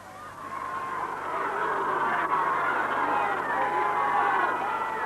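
A large, enthusiastic crowd cheers at the outdoor game show It's a Knockout, a dense, continuous roar of voices that swells slightly and stays loud throughout.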